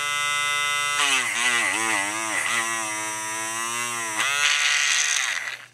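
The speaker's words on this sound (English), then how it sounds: "Polishing generates quite a bit of heat." A Lionel passenger car truck is held against a polishing wheel, giving a loud, steady high-pitched whine whose pitch dips and wavers as pressure changes, then swells briefly before winding down near the end.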